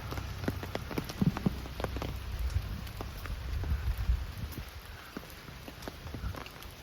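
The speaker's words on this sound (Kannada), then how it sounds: "ಸ್ವಲ್ಪ ಸ್ವಲ್ಪ ಮಳೆ ಬರ್ತಾ ಇದೆ." Light rain pattering steadily on surfaces outdoors, with scattered close drips landing over a low, continuous hiss.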